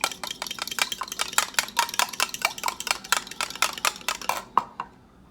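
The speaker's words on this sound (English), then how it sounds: "Then I'm going to take a fork and fluff them up just a little bit" Fork whisking two eggs in a bowl, a brisk run of rapid clicking taps against the bowl that stops abruptly, close and alone.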